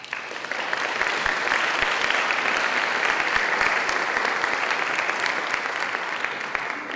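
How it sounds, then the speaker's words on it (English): A large audience at a Martin Luther King awards ceremony applauding steadily, dense sustained clapping from many hands, filling the room without pause. "Let's give them a round of applause."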